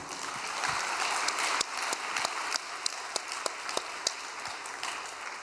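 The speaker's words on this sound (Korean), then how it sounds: "여러분 격려의 박수 부탁드립니다" A church congregation gives a round of encouraging applause, with steady, moderately loud clapping that includes a few sharper individual claps throughout.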